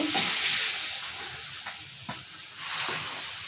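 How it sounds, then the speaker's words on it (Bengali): Rohu fish goes into a boiling curry in a pan, bringing a steady close sizzle and hiss with a few faint stirring knocks. "আমার ঝোল ফুটতেছে, আমি এখন মাছগুলো দিয়ে দেব"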